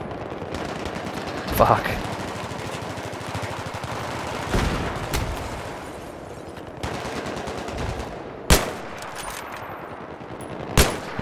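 Gunfire in a 16v16 multiplayer shooter match: rapid automatic bursts with several sharp, loud single cracks, heard beneath players swearing and talking.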